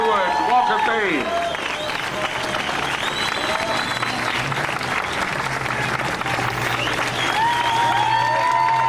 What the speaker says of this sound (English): you have been applauding for it